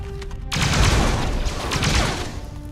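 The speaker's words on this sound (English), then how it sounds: "try to hit it with the missile launcher" A missile launcher fires in a Star Wars mod for the Starfield video game, a sudden loud burst that rolls into a dense, rumbling barrage of explosions lasting a couple of seconds.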